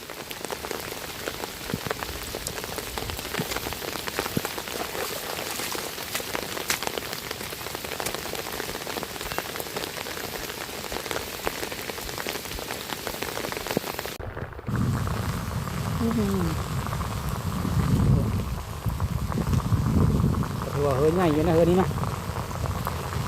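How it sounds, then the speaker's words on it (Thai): Steady rain falls near a rice field at planting time, a constant hiss of drops that grows heavier and closer partway through; a voice talks under it. "ฝนนี่"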